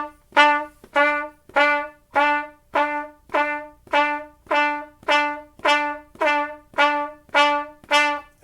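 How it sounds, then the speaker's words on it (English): Trumpets playing a steady run of fourteen evenly spaced quarter notes on E, each note short and bright with a clean attack, close and alone with no talking. "So trumpets will sound like this, quarter notes."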